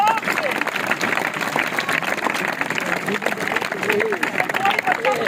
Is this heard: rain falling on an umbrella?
no